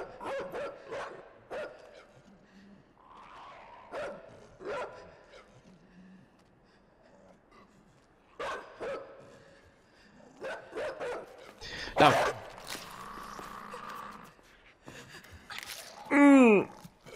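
Dogs barking in the video game Inside: repeated sharp barks in irregular bursts, some near and some more distant, mixed with panting gasps and a final whining yelp, sounding over a quiet game background.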